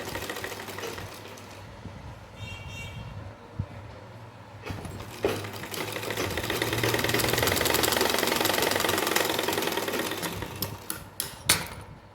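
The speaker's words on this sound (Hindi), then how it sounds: "तो एक सिलाई सबसे पहले मोड़कर कपड़े को सिलाई लगाएंगे।" A sewing machine stitches folded cloth strips for a small fancy dress with a steady, fast mechanical chatter that swells louder midway, punctuated by a few sharper knocks near the end.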